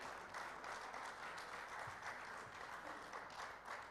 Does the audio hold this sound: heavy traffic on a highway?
no